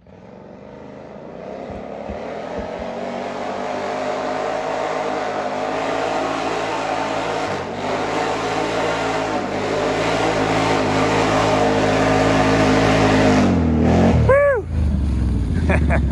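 A Polaris off-road vehicle drag racing up a hill, its engine a loud, sustained roar that climbs and builds steadily for many seconds, ending in a brief rising whine as the revs shift near the finish.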